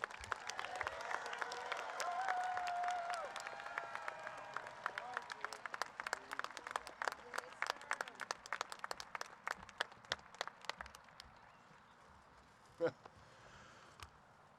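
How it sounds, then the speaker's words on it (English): A crowd at a high school graduation ceremony applauds, clapping steadily and loudly at first, then thinning out into scattered claps before fading away. "A round of applause, Coach Skirmahorn."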